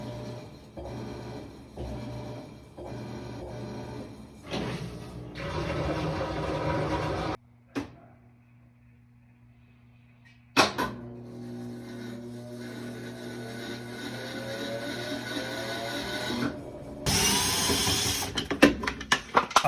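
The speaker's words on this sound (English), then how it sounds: "my washer is making a weird sound." A washing machine on a test cycle makes an odd mechanical whirring and rhythmic knocking. The noise stops briefly, starts again, and ends with louder rattling bursts.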